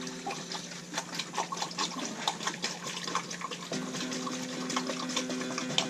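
Raw, unfiltered apple cider vinegar poured into a jar over ginger, a steady close trickling and splashing of liquid that runs through the whole stretch without talk.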